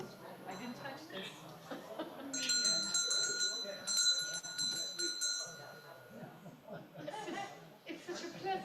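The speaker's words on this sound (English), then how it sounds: "It's a meditation bell." A meditation bell rings outdoors, its clear sustained tones struck a couple of times and lingering over a busy background with people talking and laughing nearby.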